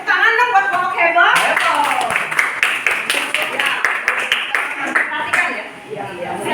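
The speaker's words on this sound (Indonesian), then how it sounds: "Tepuk tangan dong buat kelompok heboh" A group claps for a classroom team during a school presentation, a dense burst of many hands that starts loud and stays steady, with voices talking and cheering over it.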